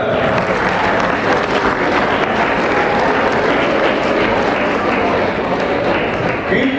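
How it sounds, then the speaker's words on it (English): Students in a classroom session clap together, a thick, continuous patter of many hands that stays loud and even throughout. "Keep clapping, don't gossip,"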